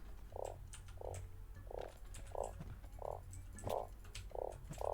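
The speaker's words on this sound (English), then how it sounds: "I can hear a frog" A video-game frog croaks in a steady rhythm, about eight evenly spaced croaks over a low continuous background hum, fairly close and clear with no talking.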